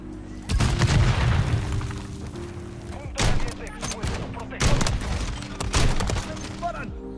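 Dual SPAS shotguns fired in Call of Duty Modern Warfare 3, heavy booming blasts in clustered bursts with short pauses between volleys, loud and close, with occasional faint talk in the background.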